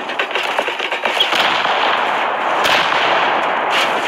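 Incoming rocket strikes in the game Rust: a loud, continuous barrage of sharp blasts and crackling bursts, dense and close, with no pauses between hits.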